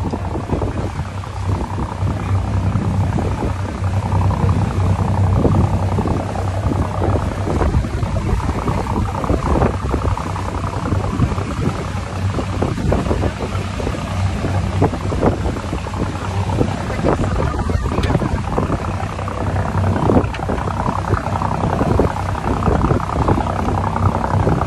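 A boat glides along a river, its steady engine-and-water rumble running for the whole stretch under gusts of wind buffeting the microphone, loud and close with no let-up.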